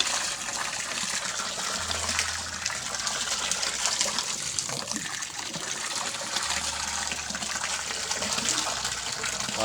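A pigeon bathing in water in a dish-washing basin gives a steady close splashing and trickling wash, with no voices.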